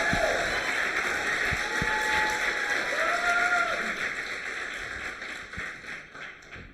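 Audience applause rises and fades over several seconds in a seminar hall, dense clapping that tapers toward the end, with a faint voice briefly heard over it.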